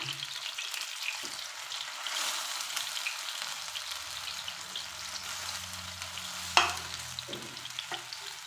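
Raw banana slices fry in a pan with a soft, steady crackling sizzle, broken by a few utensil scrapes and one sharp clink as they are turned over, close by with no speech.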